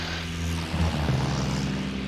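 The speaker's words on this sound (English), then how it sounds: "Taking off in a small airplane." A Beaver float plane takes off, its propeller engine droning loud and steady with a low harmonic hum that swells slightly partway through, heard close from the cabin.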